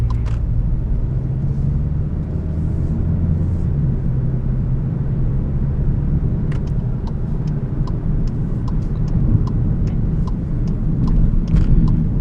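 A 2023 Volkswagen Jetta GLI sport sedan driving in S mode on the autobahn, with a steady low engine and road rumble filling the cabin throughout and a few faint clicks near the end.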